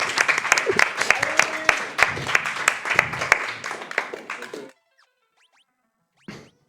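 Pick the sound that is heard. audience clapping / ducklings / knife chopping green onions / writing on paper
audience clapping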